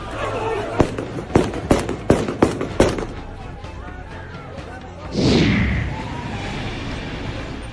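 Gunfire on a street in Kabul, fired to disperse a crowd: about seven sharp cracks ring out in quick, uneven succession. A loud whooshing rush follows over steady background commotion.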